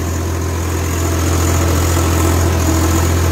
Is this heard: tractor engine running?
yes